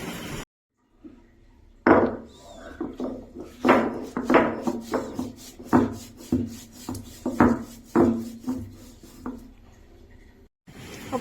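Masala spices with salt and pepper being ground on a stone for a fish fry, a series of close, rhythmic gritty rubbing strokes with stone knocks, after a brief silence at the start.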